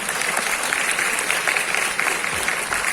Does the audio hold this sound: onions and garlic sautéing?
no